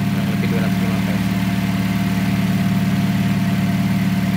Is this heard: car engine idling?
yes